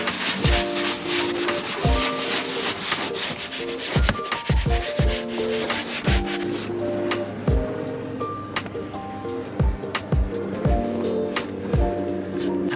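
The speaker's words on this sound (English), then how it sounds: "scrubbing these seats is exhausting" Continuous rubbing and scrubbing of a microfiber cloth across car seats, a steady brushy texture with repeated knocks and thumps, fairly close at moderate loudness with no speech.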